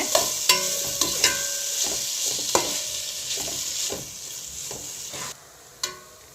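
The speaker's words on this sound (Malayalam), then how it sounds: "നമ്മുടെ ചക്കയെല്ലാം നെയ്യിൽ നന്നായിട്ടൊന്ന് വഴണ്ട് കിട്ടിയിട്ടുണ്ട്" Jackfruit pieces sauté in ghee for a sweet payasam, with a steady close sizzle broken by repeated sharp stirring scrapes and knocks against the pan.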